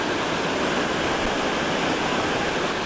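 At the foot of Athirappilly waterfall, rushing water roars in a loud, unbroken wash of white noise that fills the whole scene.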